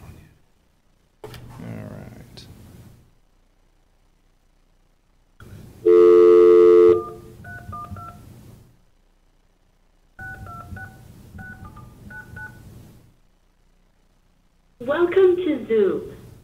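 Telephone keypad tones dial into a meeting's conference call, sounding as a loud long tone followed by short runs of beeps, with brief voices before and after.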